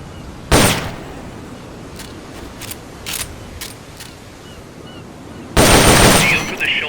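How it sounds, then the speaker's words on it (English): Rapid bursts from an M16 assault rifle in Metal Gear Solid: Peace Walker, two loud dense volleys at the start and end with a few lighter cracks between, close and punchy. "The M16 is a standard assault rifle, capable of rapid fire."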